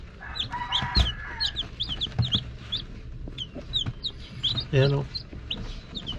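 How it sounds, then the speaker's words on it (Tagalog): Rhode Island chicks and nearby chickens, rapid high peeping from the chicks alongside clucks and a short crow-like call, close and fairly loud, with someone speaking briefly over them. "Bali may 14 piraso na tayong sisiw dyan na Rhode Island."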